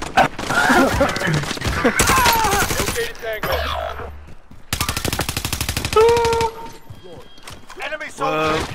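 Rapid bursts of automatic gunfire crackle in a team-based online shooter video game, sustained volleys repeating loudly through the whole stretch while players shout and talk over them.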